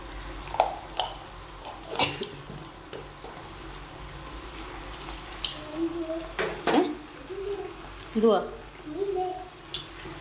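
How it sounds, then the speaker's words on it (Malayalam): Mustard seeds crackling and popping in hot coconut oil in a pan for a Kerala beef curry, scattered sputters amid kitchen clatter while a person talks. "എണ്ണ ചൂടായി. അതിൽ കടുക് ഇട്ട് കൊടുത്തേ."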